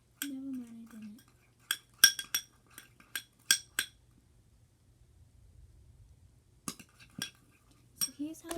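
Glue slime is stirred in a bowl with a utensil, giving scattered sharp clinks and taps with quiet gaps, while a voice briefly speaks at the start and end.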